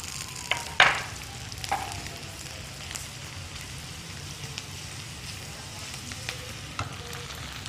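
Onions and tomato paste fry in a pan over a stove flame, giving a steady soft sizzle with a few sharper crackles and pops near the start, close and moderately quiet with no talking.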